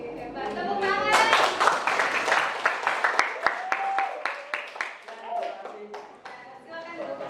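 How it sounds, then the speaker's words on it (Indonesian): Students in a classroom break into brief applause, a burst of scattered hand claps that thins into uneven single claps, mixed with a teacher's voice and children's chatter. "Hebat, tepuk tangan."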